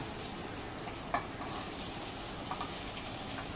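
Boiled potatoes being stirred into onions, red chilli powder and turmeric in a pan over a low flame for masala dosa filling, giving a steady soft sizzle with scraping stir strokes and one sharper knock near the start; no talking.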